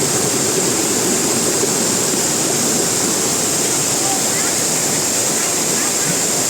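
Mae Ya waterfall in Thailand pours steadily, a loud, dense and continuous roar of rushing water that holds unchanged from start to finish with no voices over it.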